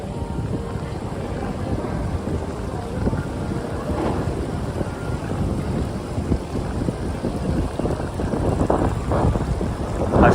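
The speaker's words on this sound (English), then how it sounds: "it's a little bit too windy for you guys" Strong wind buffets an open microphone on a Miami river walk beside moored yachts, a steady loud rumbling roar with gusty swells throughout and no voices.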